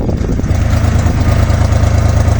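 Engine of a 1986 Daihatsu Hijet 1000 runs at a steady idle, a loud, close, even low rumble with a constant mechanical pulse throughout.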